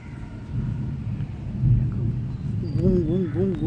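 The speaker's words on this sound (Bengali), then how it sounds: "মেঘের আওয়াজ হচ্ছে" Thunder rumbles low and heavy during rain, swelling in waves under the steady patter, with a bird's warbling calls rising near the end.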